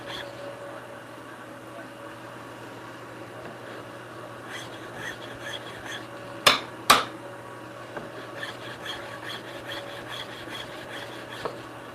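Rhythmic rasping strokes come from a curved file shaping a wooden mallet handle, close and moderately loud, with two sharp knocks midway and a voice speaking now and then.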